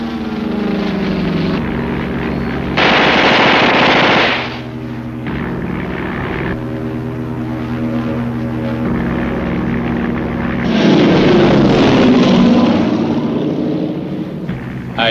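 Loud propeller engine drone from a fighter plane in a 1963 Route 66 episode, swelling in two close roaring passes with rattling bursts, continuous throughout with no voices.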